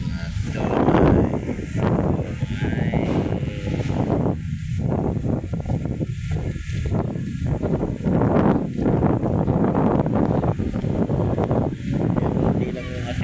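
Strong, gusty wind buffets the microphone along Manila Bay during a habagat monsoon afternoon, a continuous loud roar with surging gusts, while a person talks over it throughout.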